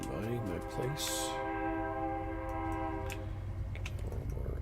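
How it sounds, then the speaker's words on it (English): A real train passes outside, its horn sounding as long steady tones through most of the clip, loud and sustained, with a burst of noise early on and talk mixed in. "Actual train coming by my place."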